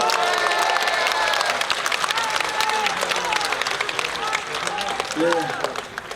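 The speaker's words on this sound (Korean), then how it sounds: "우리 그분께 큰 박수 한번 보내드리면 좋겠습니다" A crowd at an outdoor mayoral campaign rally in Yeongdeungpo, Seoul, bursts into sustained, dense applause with scattered cheers, loud and close, while voices call out over it.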